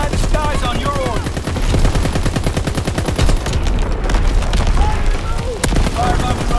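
Heavy rapid automatic gunfire and booming impacts from artillery fire in a Call of Duty match on Shipment, loud and continuous with a voice talking over it.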